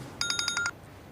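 A phone rings with a rapid burst of bright, pulsed electronic ring tones lasting about half a second, fairly quiet and close, then stops against a soft room hiss.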